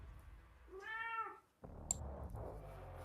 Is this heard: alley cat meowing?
yes